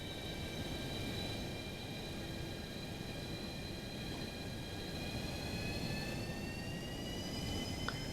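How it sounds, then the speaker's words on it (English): Boeing 737-200 jet engines in X-Plane 12 spooling up as the throttles advance for taxi, a steady broadband roar with a rising whine that holds throughout. "So let's advance our throttles"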